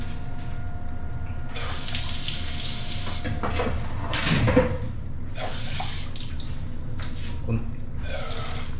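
Tap water runs into a pot or container during home cooking, a steady splashing pour that stops and starts in bursts, with faint background noise.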